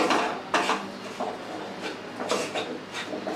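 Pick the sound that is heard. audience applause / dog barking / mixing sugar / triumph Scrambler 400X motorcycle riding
mixing sugar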